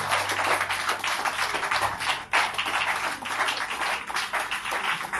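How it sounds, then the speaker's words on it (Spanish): A church congregation claps together in sustained, dense applause that stays level throughout, with a brief dip partway through. "denle a la iglesia un fuerte aplauso"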